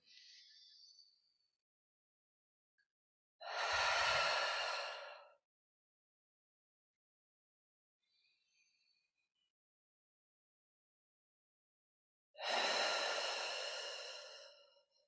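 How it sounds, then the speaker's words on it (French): Two long, slow exhalations through the mouth during a pranayama breathing practice, each a breathy rush lasting about two seconds, close and clear, separated by a long quiet pause with only a faint soft breath between them. "cette expiration par la bouche"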